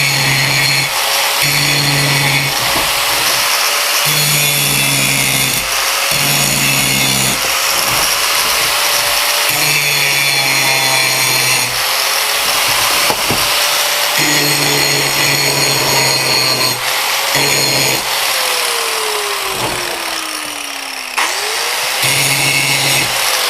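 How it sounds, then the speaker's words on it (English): A small 4-inch angle grinder works on a gun part, grinding down high points in repeated loud bursts, its motor whine rising and dropping as it spins up and bites into the metal between short pauses. "Take a little 4-inch grinder."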